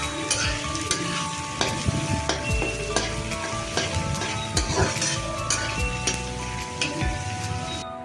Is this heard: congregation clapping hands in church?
no